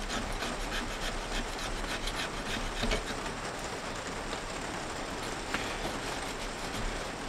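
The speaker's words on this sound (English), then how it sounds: "So I'm scraping off this excess epoxy glue here off this middle part of the transformer bobbin." A blade scraping excess epoxy glue off the middle of a transformer bobbin, a steady rasping scrape that continues with slight variations at close range over a low hum.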